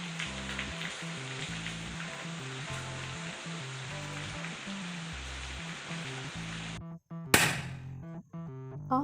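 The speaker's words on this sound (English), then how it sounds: "When I reached home, it started to rain." Rain falls steadily at home on a gloomy day, a continuous close hiss over a low tonal layer, broken by a short louder burst near the end.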